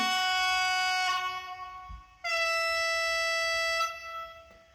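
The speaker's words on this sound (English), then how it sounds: "the horn." Model locomotive sound decoder horn on an Adria Transport 1822: two sustained multi-tone blasts, the first about two seconds and the second slightly longer, clear and close with a brief gap between them.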